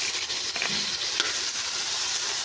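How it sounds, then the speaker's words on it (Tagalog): Onion and tomato sautéing in hot oil in a pan make a steady, close sizzle, broken by a few scrapes and clinks from stirring. "Ginisa ko na nga rin pala yung sibuyas at kamatis."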